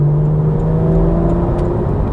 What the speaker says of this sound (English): enjoy all that magnificent sounding exhaust